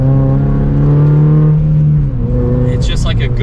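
A modified Toyota GR86 holds a steady engine and exhaust drone that drops in pitch partway through, then carries on lower as it settles.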